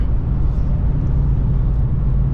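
Base 2024 Ford Mustang GT S650 with its V8 engine, heard from inside while driving: a loud, steady low rumble of engine and road noise with no distinct gear change audible.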